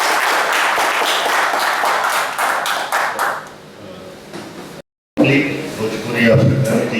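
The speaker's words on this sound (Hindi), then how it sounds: "प्लीज़ गिव अ ग्रैंड जोर से इनकी तालियों के स्वागत किया जाए।" An audience at a Bihari community gathering claps to welcome a guest, a burst of many hands that fades out, followed after a brief gap by a voice speaking.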